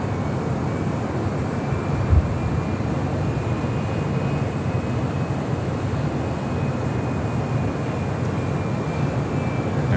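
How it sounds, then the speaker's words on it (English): An Airbus A330 jet departs the runway at LAX, a steady, broad engine roar that stays even and fairly loud for the whole stretch, with a faint high tonal whine running through it. "Airbus 330 departing runway 25 right, caution with turbulence"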